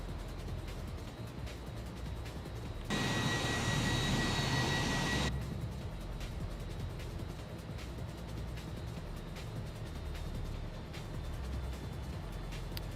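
Aircraft engine in a flight simulator game, a steady mid-level drone that surges into a louder, broader roar for a few seconds, then drops back to the lower hum as the throttles come down.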